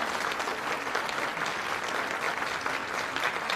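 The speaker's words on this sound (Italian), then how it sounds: "Fategli un bel applauso." An audience applauds continuously, many hands clapping in a dense, even patter, heard from a slight distance.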